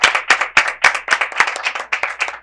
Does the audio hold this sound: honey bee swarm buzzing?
no